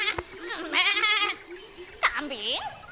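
A voice imitates a goat bleating in several wavering, quavering cries, with a longer vibrato bleat near the middle and another drawn-out call toward the end, fairly close and clear.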